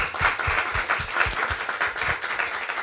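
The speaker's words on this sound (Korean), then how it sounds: "우리 한번 박수하겠습니다." A church congregation at a revival meeting claps together in a quick, steady rhythm, the hand claps blending into a continuous burst of applause.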